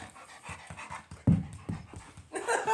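A dog pants rhythmically and close after exercise, quick steady breaths with a brief louder huff partway through, with no talk over it.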